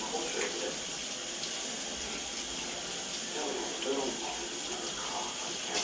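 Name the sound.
washing fingertips under running water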